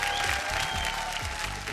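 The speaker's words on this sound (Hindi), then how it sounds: "तो जोरदार तालियों से स्वागत करी पूजा सेठ जी के" A television studio audience applauds on the Big Memsaab show, Season 7, welcoming contestant Pooja Seth: dense, even clapping runs steadily throughout, with a faint tonal background underneath.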